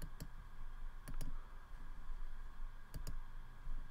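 Computer mouse clicked in a few quick pairs of sharp close clicks, spaced out over a few seconds against a steady low room hum.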